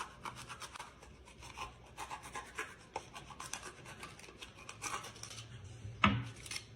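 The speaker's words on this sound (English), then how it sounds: "you're gonna take your styrofoam cup, and you just have to cut a hole." Scraping and rasping as a blade cuts a hole through a styrofoam cup, with irregular rubbing strokes and small squeaks, close and fairly quiet, ending in a sharper crunch near the end.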